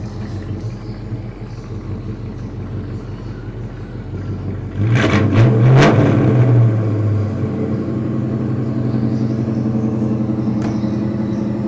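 A 1966 Chevrolet Chevelle's 283 V8 idles with a deep, throaty rumble, then blips into a short, loud rev before settling back to a steady burble.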